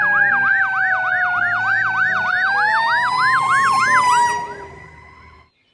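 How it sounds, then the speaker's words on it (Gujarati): A fire engine siren wails in fast repeating whoops, loud and close, then cuts off abruptly. "તો ગાઈસ આ છે આપણો ઇન્ડિયાનો લાઈવ બંબો"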